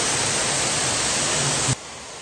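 Waterfalls in Chichibu, Japan give a dense, steady roar of rushing water, loud and unbroken, cutting off suddenly near the end to a fainter background wash.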